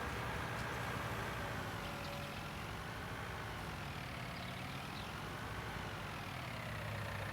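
Tractor engine droning steadily in the video game Farming Simulator 19, a continuous low mechanical hum with slowly shifting pitch, heard alone.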